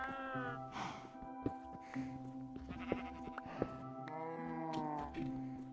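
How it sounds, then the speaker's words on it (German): Sheep bleat repeatedly in the Minecraft video game, several wavering cries close and clear over a steady game background tone, with no talking. "Achtung, Schäfchen."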